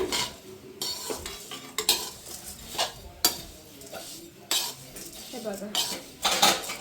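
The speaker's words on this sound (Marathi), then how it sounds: "याला हलवायची मेहनत असते जास्त, असं नाही का, फिरून घ्यायचं व्यवस्थित चांगलं." A spoon scrapes and stirs a spicy poha mixture in a pan on the stove, producing irregular metallic clinks and scrapes with a faint sizzle, while someone speaks briefly.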